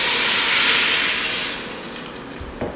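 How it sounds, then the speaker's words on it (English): Water poured into a hot chili pot sizzles with a loud, close hiss that bursts at once and gradually fades over a few seconds, with a faint clink near the end. "You hear that nice sizzle."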